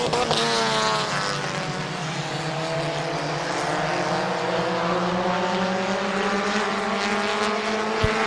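Several race cars roar around the oval at Midvale Speedway, a dense, continuous engine drone with rising and falling pitch sweeps as cars pass, loud and steady throughout with no talk.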